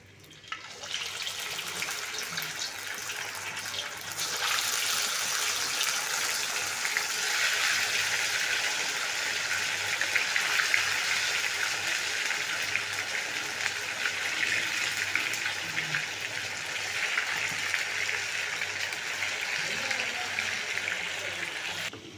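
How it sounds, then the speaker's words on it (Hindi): Chicken tikka pieces fry in hot oil in a pan, giving a steady, close sizzling hiss that rises after the first few seconds and continues unbroken, with no talking. "अब इसमें फ्राई करने के लिए डालेंगे।"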